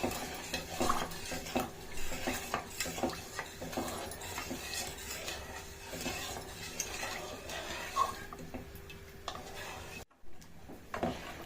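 A spoon stirs milk and sugar in a pot on a medium stove, scraping and clinking against the metal in a continuous, busy rhythm under a faint low sizzle.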